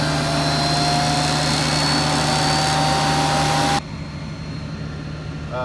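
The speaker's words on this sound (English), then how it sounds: "Vacuum, that's what it is." A planter's vacuum fan runs with a steady, loud mechanical whine and roar, then drops abruptly to a lower, quieter hum.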